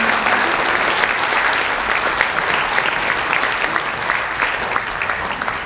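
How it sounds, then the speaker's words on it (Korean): A crowd at a ceremony honoring a veteran advertising professional claps for a plaque recipient, a dense, even wash of applause that holds steady and loud throughout. "큰 박수로 축하해 주시기"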